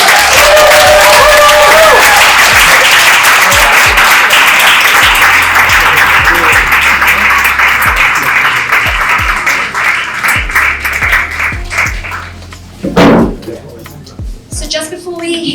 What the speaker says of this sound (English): Can I have a big round of applause for everyone, please?